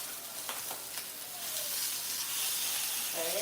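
Big center-cut pork chops searing in a hot pan, a continuous loud sizzle and hiss that swells slightly over time, with brief faint clinks.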